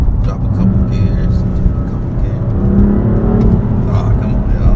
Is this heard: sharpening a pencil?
no